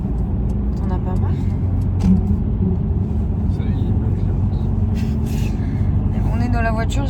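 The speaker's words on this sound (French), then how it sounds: "On est dans la voiture" Inside a car driving home at night, a low steady road and engine rumble fills the cabin, with faint rustles and scattered small noises over the top.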